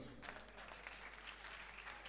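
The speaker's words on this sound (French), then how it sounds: "On applaudit très fort." A crowd claps steadily for about two seconds, a dense, even patter of many hands heard from within the audience.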